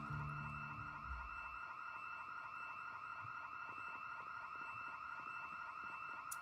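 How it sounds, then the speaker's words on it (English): A church alarm blaring in the video game Project Zomboid, a loud, steady, piercing electronic wail that holds continuously throughout with a faint low rumble at the start. "Not very neighborly of a church to have freaking alarms."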